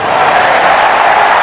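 A packed Adelaide Oval crowd roars for Travis Head's home Test century in a broadcast, a dense, loud, sustained wash of cheering and whoops.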